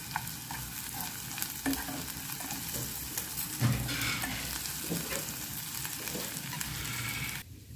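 Vegetables for vegetable noodles sauté in a hot pan, a steady sizzle under repeated scraping and stirring strokes, close and continuous, with no talking until the sound cuts off near the end.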